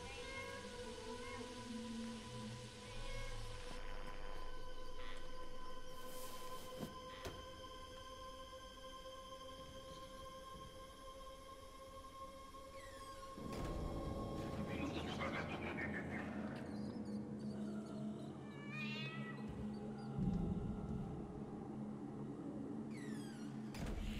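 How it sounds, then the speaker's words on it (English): A cat in the horror game Five Nights at Freddy's meows several times over a steady ambient hum, with sliding and thudding sounds and brief speech nearby. "Poor little cat is not a fan of that guy."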